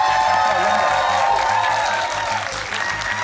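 A New Zealand comedy spelling bee's studio audience breaks into loud, sustained applause with some cheering, steady throughout and easing slightly near the end.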